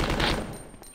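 A gun fires in the PlayStation 1 game Resident Evil 2, set in the Raccoon City sewers: a short, loud burst of noise that quickly decays, with no voices.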